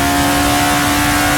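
A 1960s Japanese sports car engine in the Assetto Corsa racing sim, accelerating under load at Suzuka with a steady, loud, buzzing drone that holds close and continuous throughout.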